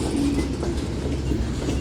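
A Union Pacific manifest freight train passes Central Avenue close by, a steady loud rumble of rolling cars and wheels with continuous rail noise and no voices.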